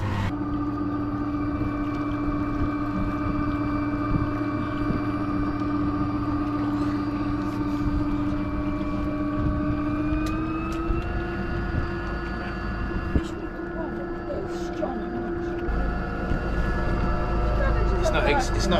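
A small boat engine drones steadily at close range, its pitch rising slightly partway through, with water and wind noise around it.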